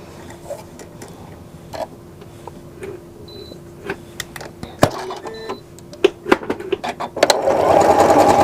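A sewing machine stitches a decorative heart pattern, sounding as uneven bursts of mechanical clicks and taps that build into a louder, denser whir at the end.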